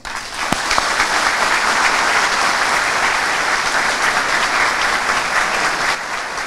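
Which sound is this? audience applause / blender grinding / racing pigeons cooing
audience applause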